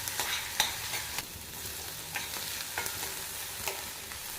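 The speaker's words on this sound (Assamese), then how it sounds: "কাটি লোৱা পিঁয়াজ এফাল আৰু কেঁচা জলকীয়া অলপমান দি 1 মিনিট সময় ভাজি ল'ব" Sliced onion and green chili fry in a pan with a soft, continuous sizzle, punctuated by sharp clicks and scrapes of stirring, faint and close with no talking.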